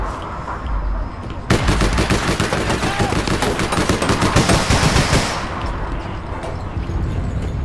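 Gunfire in the video game APB Reloaded: after a quiet start, a loud, dense burst of rapid automatic shots rattles on for several seconds, then drops back to a lower background din.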